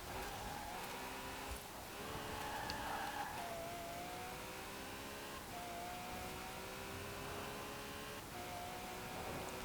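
A 2017 Ferrari GTC4Lusso in Forza Horizon 4 holding a steady engine drone while drifting, the pitch shifting and rising between gear changes, with continuous tyre and road noise underneath.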